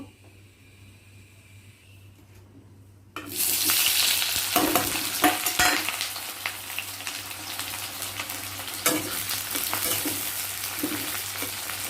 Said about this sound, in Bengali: পেঁয়াজটা একটু ভাজা হোক।